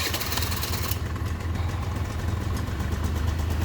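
A two-stroke Honda Dio scooter engine fires up and settles into a steady, close idle, its low buzzing putter running continuously after a brief start-up burst.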